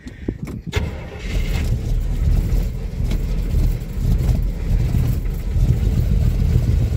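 A 1975 Chevrolet K20 truck engine cranks with a few sharp clicks, catches, and settles into a loud, rough, close idle that keeps rumbling unevenly, with no talking.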